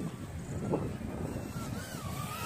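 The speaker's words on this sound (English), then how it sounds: "So my SPC Maker 90GN actually flies" An SPC Maker 90GN quadcopter drone with soft-mounted motors flies, its motors producing a steady whirring drone with a wavering pitch, fairly close, over rushing airflow noise.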